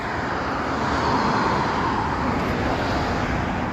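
An LBZ Duramax diesel engine runs steadily throughout, a broad, constant rumble with no breaks, close and fairly loud.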